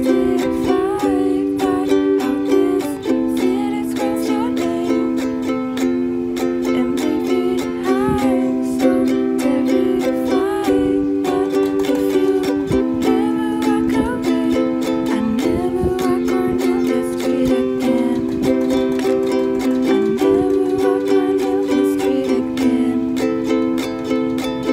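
A ukulele strumming pattern for the chorus of a song: steady, continuous chord strums with a sung melody over them, played up close and fairly loud.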